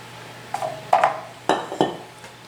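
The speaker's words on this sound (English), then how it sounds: "I'll go ahead and put in a little bit more flour." Flour being added to ginger molasses cookie dough in a mixing bowl, heard as a few bright clinks and taps of a utensil against the bowl: four or five separate, moderately close knocks in a quiet kitchen.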